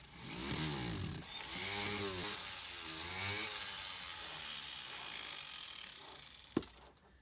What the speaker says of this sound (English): Next, I'll go over it with a buffing wheel.